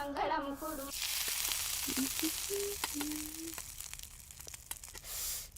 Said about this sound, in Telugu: పూరీలు నూనెలోనే వేస్తారే, నీళ్ళలో కాదు.